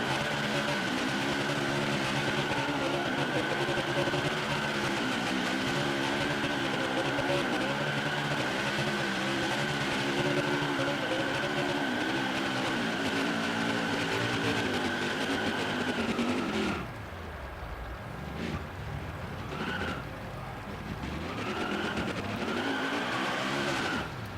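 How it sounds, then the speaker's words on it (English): A race car spins victory donuts in turn 1 at Watkins Glen in NASCAR Heat 5, its tires skidding and squealing continuously over a loud, steady engine drone, then the engine revs rise and fall in bursts near the end. "The victory celebration, donut style down in turn 1"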